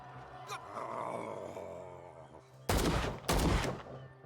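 Gunfire in the horror game Call of Cthulhu, two loud, sharp blasts close together near the end, following a stretch of low ambient rumble and a faint earlier knock.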